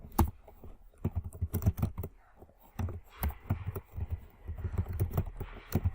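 Rapid, close typing of code on a computer keyboard for a React JS form, sharp clicky keystrokes coming in irregular bursts separated by short pauses.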